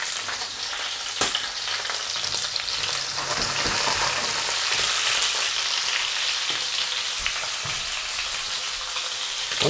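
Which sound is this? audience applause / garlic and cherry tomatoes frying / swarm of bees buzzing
garlic and cherry tomatoes frying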